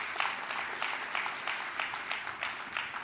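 Church congregation clapping together in a steady, rhythmic beat, a dense wash of hands at moderate loudness with no talking over it.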